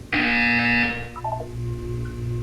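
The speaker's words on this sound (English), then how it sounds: "You will hear a buzzer. When you hear the buzzer, look up at the ceiling." A loud electronic buzzer from Portal 2 sounds once, a harsh steady tone lasting under a second, then cuts off into a faint hum and a few soft electronic blips.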